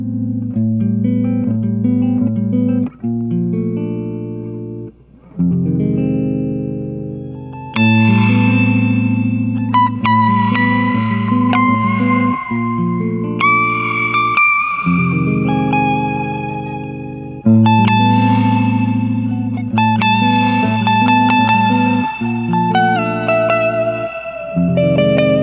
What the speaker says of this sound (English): Then there's the rewind, which is a pretty cool sound.